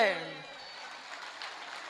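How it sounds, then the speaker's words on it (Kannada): Audience applause at a science convention lecture, a broad wash of clapping that rises after a brief voice at the start and holds steady at moderate level to the end. "ತಟ್ಟಿ ಚಪ್ಪಾಳೆ"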